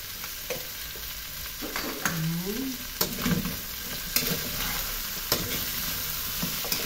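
A spoon stirs ground pepper and seasoning powder into a dish frying in a pan, giving a steady sizzle with intermittent scraping knocks against the pan.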